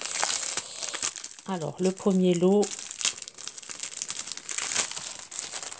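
Thin plastic packaging holding sheets of very fine paper crinkles and crackles in bursts throughout, close and fairly loud, while a person speaks briefly in the middle.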